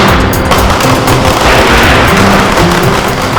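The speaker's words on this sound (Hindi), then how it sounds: "पटाखे जलाते हैं" Firecrackers go off in a dense, continuous barrage of loud cracks and booms, close and overwhelming for the whole stretch.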